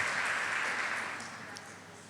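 Church congregation applauding the Lord during a Spanish-language sermon: a steady wash of many hands clapping, fairly distant and fading slightly toward the end, with no distinct voices on top.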